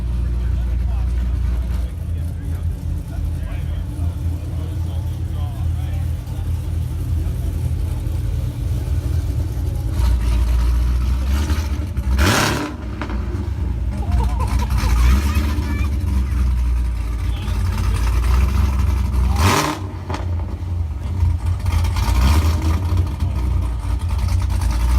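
Jaguar cars rolling into a cars-and-coffee meet, engine rumble building with two loud revving passes, under a murmuring crowd and nearby talk.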